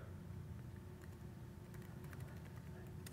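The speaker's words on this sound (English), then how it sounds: "you're gonna type in the password" A password is typed on a computer keyboard, with faint, quick key taps over a low steady background hum.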